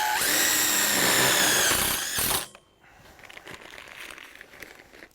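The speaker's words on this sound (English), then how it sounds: "We're going to start by putting a couple screws in it" A power drill drives a self-tapping screw into a metal greenhouse hoop on a 10x10 DIY greenhouse, a loud whirring burst for about two and a half seconds, then quieter handling rustle.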